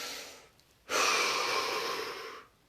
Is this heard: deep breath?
yes